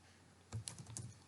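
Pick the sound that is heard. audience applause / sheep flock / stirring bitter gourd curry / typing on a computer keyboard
typing on a computer keyboard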